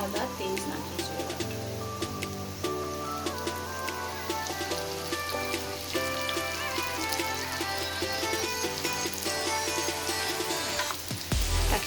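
Potato snacks fry in oil over low heat, giving a soft, continuous crackling sizzle, with faint tonal background sounds running underneath throughout.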